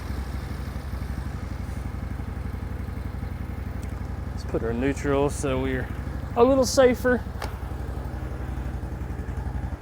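A 2024 CF Moto CForce 800 Touring ATV with a new exhaust system idles in a low, steady rumble while someone speaks briefly over it midway.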